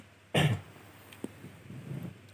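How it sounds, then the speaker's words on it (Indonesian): A single sharp cough bursts out, followed by softer throat sounds and faint shuffling in a quiet room. "Maaf ya, ini saya batuk-batuk"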